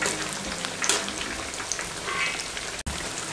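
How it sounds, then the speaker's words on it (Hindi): Potato chip pakora fry in oil over a medium flame: a dense, close, continuous crackling sizzle with small popping bursts and a brief dropout near the end. "तकरीबन 7 से 8 मिनट हम इसको फ्राई करेंगे"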